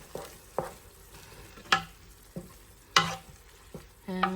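Garlic frying in a pot of sausage chili, with scattered scrapes and clacks of stirring over a soft, faint sizzle.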